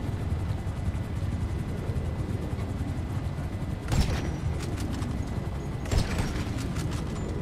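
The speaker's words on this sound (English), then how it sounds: "There's another chopper wanting to land on our pad." A helicopter in the GTA Online video game gives a steady rotor drone that carries under game action, with two sharp bursts of gunfire-like cracks near four and six seconds and no talk.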